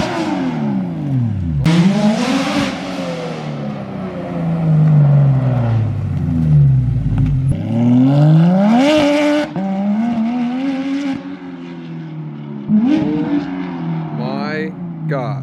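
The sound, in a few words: Porsche GT3 RS with straight-piped exhaust, revving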